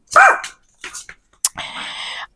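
A pet dog barks sharply several times nearby after spotting another dog, loud bursts separated by brief pauses.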